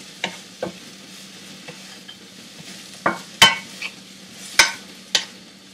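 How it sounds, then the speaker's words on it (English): A utensil stirs Chinese okra and egg in a frying pan, giving a soft steady sizzle with about ten sharp scraping clicks spaced irregularly, close and fairly quiet with no talk. "And then keep on stirring."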